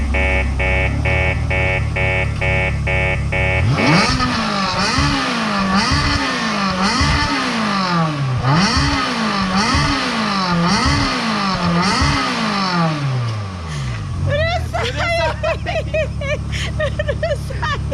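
A loud car engine, likely a Ferrari F360, revs hard as it arrives, climbing and falling in repeated sweeping bursts with a steady idle at the start and sharp snarling blips toward the end.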